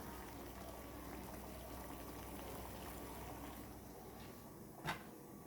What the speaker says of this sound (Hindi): अब इसे खूब उबालूंगी